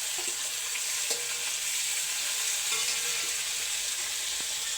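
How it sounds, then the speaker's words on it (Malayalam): Chopped onion, garlic, ginger, green chili and curry leaves sauté in hot oil for a beef dish, a steady close sizzle with faint stirring scrapes and no talk. "എണ്ണയ്ക്കകത്തിട്ടിട്ട് വഴട്ടുവാണേ."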